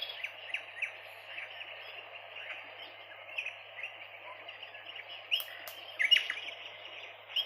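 Birdsong ambience from a sound app, a steady bed of many chirps and tweets with sharper calls rising now and then, fairly close and continuous with no talk.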